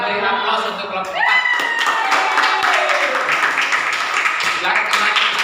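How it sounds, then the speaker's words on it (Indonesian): A classroom group claps for group 4, a brief burst of fairly close hand claps that stay steady for a few seconds, with voices talking over it. "Kalau tidak ada, beri aplaus untuk kelompok 4."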